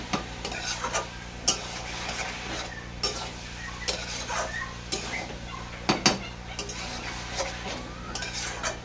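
Cabbage ghonto being stirred with sugar in a pan, a spatula scraping and clinking against the metal in irregular strokes, fairly close, over a low steady hum and faint sizzle, with no speech.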